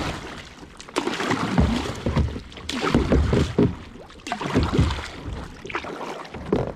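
A kayak is paddled with a single paddle in a harbour entrance, giving rhythmic splashing strokes roughly every second, mixed with wind buffeting the microphone, loud and close.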